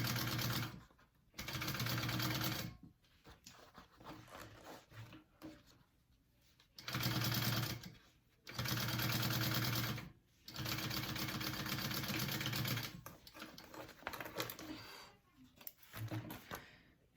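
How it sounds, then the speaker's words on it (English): A sewing machine stitches a pocket lining seam at a quarter-inch allowance in repeated loud whirring runs of a few seconds each, separated by pauses with quieter handling noises. "I'm gonna sew that together at a 1/4 seam allowance"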